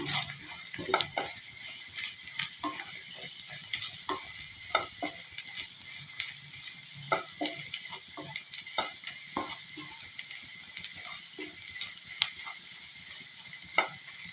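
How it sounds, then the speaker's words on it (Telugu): Chili powder being stirred in a frying pan for a mutton fry, with a spatula scraping and tapping the pan in irregular strokes over a faint, steady sizzle, close by and fairly quiet. "ఇది పచ్చివాసన పోయేంతగా కొంచెం తిప్పుకుందాము"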